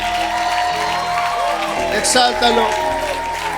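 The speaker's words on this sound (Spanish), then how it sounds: "Si estás vivo, dale aplausos a Él" A church congregation keeps clapping and cheering as a loud backdrop while a preacher speaks over the crowd, with a few shouts rising above the noise.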